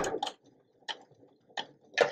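Sewing machine stitching a quilt seam in short bursts: a few quick mechanical clatters, pauses, then more stitches, close and fairly loud with no talk.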